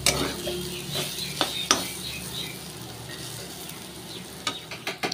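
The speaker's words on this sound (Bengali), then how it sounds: "এদিকে আলুটা ভেজে নিচ্ছি।" Potatoes frying in a pan hiss steadily up close, with a few sharp clinks and scrapes of a spatula against the metal scattered through, no voices.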